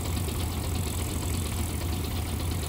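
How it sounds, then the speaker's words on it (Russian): Tractor hauling a trailer loaded with bricks, a steady mid-pitched diesel engine drone with a faint rattle running unbroken and fairly close, with no talk. "О, на тракторе. С телегой тоже груженный кирпичом."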